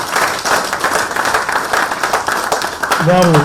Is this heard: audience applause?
yes